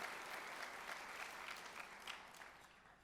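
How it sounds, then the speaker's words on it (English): Applause from a conference audience for award recipients, nominees and an awards committee, a steady wash of clapping that stays fairly even and slowly fades over a few seconds. "give another big round of applause for all of the award recipients, nominations, and the awards committee"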